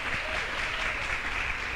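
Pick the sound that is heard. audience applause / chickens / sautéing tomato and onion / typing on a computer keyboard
audience applause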